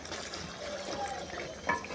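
Water poured into a pot of frying chicken while cooking chicken pulao: a continuous splashing pour with hissing sizzle, close and fairly loud, with no voices.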